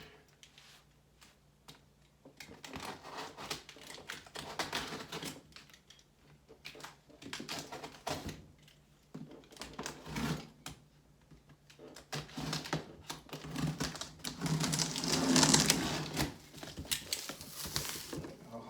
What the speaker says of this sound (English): go ahead and cut it open